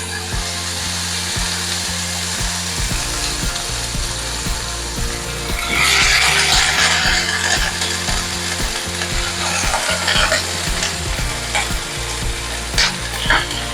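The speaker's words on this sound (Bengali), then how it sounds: "এবার এই মশলা ফোড়নের মধ্যে দিয়ে দিয়ে এই সবজিগুলোকে ভালোভাবে একটু ভাজা করে নেব" Bitter gourd pieces fry with spices in a hot pan, a continuous close sizzle with rhythmic scraping of a stirring spoon that swells louder partway through.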